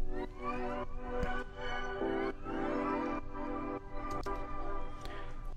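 A soft, sustained synth pad with warm, dreamy chords shifting every second or so, layered over steady musical backing with a bright, airy top.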